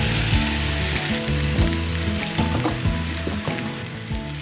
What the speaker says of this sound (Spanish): mira la que estoy liando aquí, el sofrito que ya tenemos